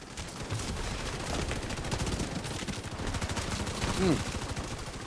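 Sustained automatic gunfire in the online shooter The Division 2, with dense rapid bursts running through the whole stretch over a busy game mix and swelling briefly near the end.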